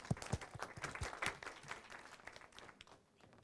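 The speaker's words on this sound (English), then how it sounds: "Round of applause." A small crowd at a community input meeting on a proposed enrollment and resource center gives a round of applause, fairly quiet and nearby, with distinct individual claps that gradually taper off.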